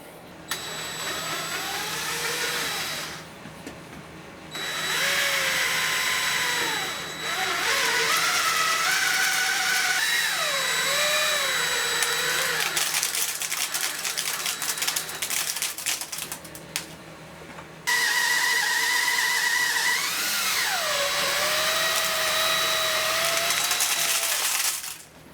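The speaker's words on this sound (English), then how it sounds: "Anyways, time to get to drilling." Loud, continuous machining din as a Winchester 1890 .22 short rifle barrel is drilled out for a reline, with whining, wavering tones rising and falling over a steady mechanical grind that briefly drops away twice before resuming.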